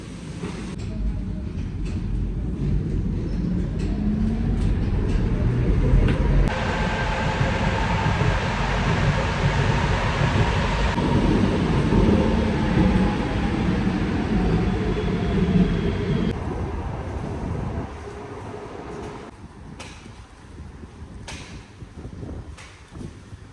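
An old metro train rumbles into a station on a rainy, windy day, its roar building and holding for a long stretch before easing off with quieter clanks at the end.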